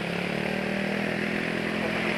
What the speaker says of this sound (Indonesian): suara mesin anyep tapi kelidikannya kok sih banter gitu ya